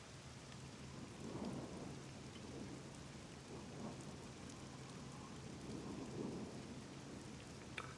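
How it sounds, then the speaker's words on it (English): In the video game Scum, a thunderstorm brings steady rain hiss and low rolling thunder that swells and fades. The sound is quiet and continuous, with no talking. "So 1 is a storm."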